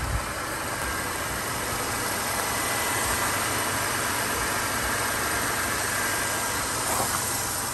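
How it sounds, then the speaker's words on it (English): A 2010 Mercedes-Benz C180 petrol engine idles with a steady, even hum and hiss, constant in level throughout and heard alone without speech. "Nice quiet engine, petrol, which seems to be in vogue again."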